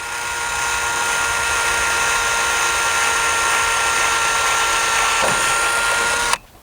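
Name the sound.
power drill drilling plastic railing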